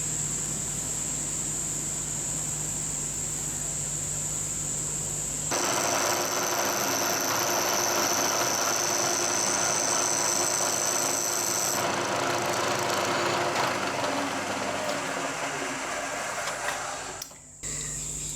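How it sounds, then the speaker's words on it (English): A milling machine cuts the top of a small sheet-metal key at an angle while it is held in a vise clamped to a fixture plate, a steady motor hum with a grinding, cutting tone that shifts partway through, close, with no talking. "I'll clamp a small vise to the fixture plate, and I'll machine the top of the key to the correct angle"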